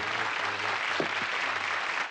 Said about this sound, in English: You know he's beloved since he enters to applause.